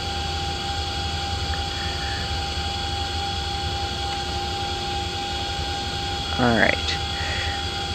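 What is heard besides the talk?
CH-47D helicopter engines starting, X-Plane 11 video game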